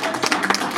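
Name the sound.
audience applause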